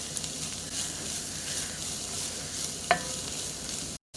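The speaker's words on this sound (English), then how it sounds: "I like using a wooden spoon so I can like scrape on the bottom and get all that off the bottom of my pan" A wooden spoon scrapes and stirs beans in a pan with bacon grease, close soft scraping over a steady low sizzle, with one brief sharp clink partway through.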